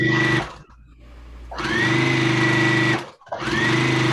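A sewing machine stitching quilt binding runs in loud sustained bursts with a steady motor whine, stopping briefly between runs.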